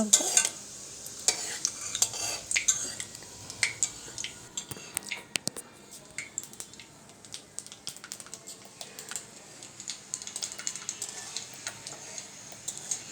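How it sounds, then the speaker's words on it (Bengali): A bay leaf and a dried chilli crackle in hot oil for a pickle, giving faint, scattered pops and light ticking over a low sizzle, punctuated by a few soft utensil clicks. "তেল গরম হয়ে গেলে এখানে আমি দিয়ে দিলাম একটা তেজপাতা আর একটা শুকনো"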